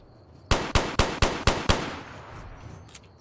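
Six sharp gunshots from Fallout New Vegas, fired in quick succession about a quarter second apart, loud and close, followed by fading echo and quiet game ambience.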